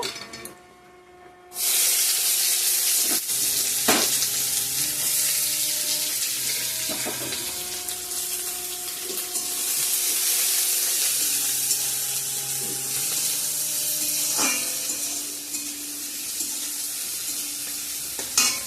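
Onion and garlic are added to hot oil with bay leaf, dried chilli and whole cumin for a tadka. After a brief quiet start, a sudden sizzle breaks out and then settles into a steady close crackle, with no talk.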